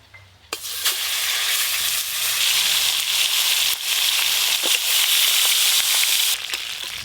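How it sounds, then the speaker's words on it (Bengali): Pieces of pangas fish hit hot oil and fry with a loud, sudden burst of sizzling that settles into a steady, crackling hiss close by, with occasional sharper pops. "পাঙাশ মাছগুলো কিন্তু একটু লাল লাল করে ভালো করে ভেজে নেব"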